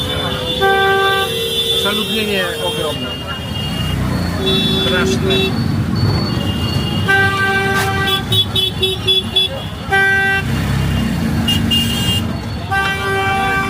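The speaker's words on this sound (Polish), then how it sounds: "Tu wszyscy trąbią na raz i to w ogóle nie ma żadnego sensu." Car and tuk-tuk horns honk repeatedly and overlapping in dense Indian street traffic, short toots and longer blasts over a constant roadway rumble, with a voice talking throughout.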